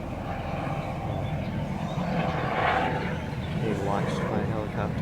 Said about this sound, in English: Being watched by a helicopter flying in